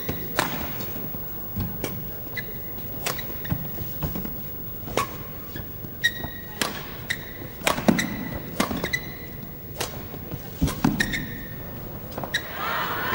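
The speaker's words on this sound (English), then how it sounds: "nice drop shot from Chen Hong" Shuttlecock struck repeatedly in a men's singles badminton rally between two Chinese players, a sharp racket smack every second or so over arena ambience, with squeaking shoes and scattered thuds between hits.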